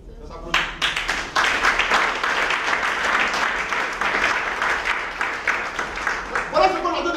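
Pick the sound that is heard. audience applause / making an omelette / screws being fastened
audience applause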